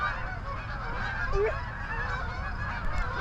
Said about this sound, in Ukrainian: Все. Гуси полетіли.